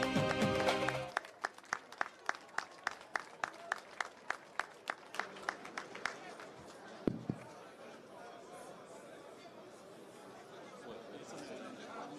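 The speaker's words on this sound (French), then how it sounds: "Sous vos applaudissements." Crowd chatter and brief applause open a World Cup squad announcement, followed by a long run of single, evenly spaced claps like rhythmic hand-claps, then a murmuring crowd with voices underneath.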